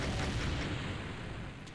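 Cannon fire booms in the Pirate Doom video game: a dense, continuous rumbling blast that stays loud and heavy across the short moment, with no clear gaps between shots.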